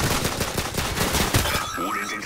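Gunfire in an online Call of Duty match: dense rapid bursts of automatic shots crackle continuously and loudly, then give way to fainter game sounds near the end.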